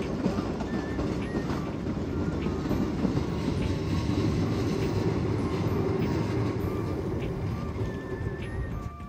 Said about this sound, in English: I'm taking another train to Miidera.